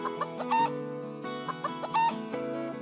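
A cartoon rooster clucks in quick bursts of high, tonal squawks over a steady musical background, repeating several times in a close, lively pattern.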